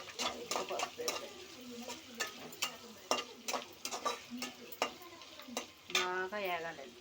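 Turmeric frying in oil in a pan, a soft steady sizzle under repeated sharp clicks and scrapes of a spoon stirring against the metal, with a brief voice near the end.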